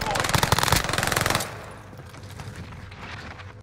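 Rapid automatic gunfire from Call of Duty Warzone (Vanguard), a loud burst of dense shots in the first second and a half, then quieter in-game ambience with scattered distant sounds.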